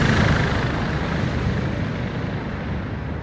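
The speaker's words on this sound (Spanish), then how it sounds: "Viene un helicóptero." Helicopter approaching in the Call of Duty: Modern Warfare 2 campaign, a dense, loud rotor-and-engine roar that holds steady and fades slightly over a few seconds, with no voices.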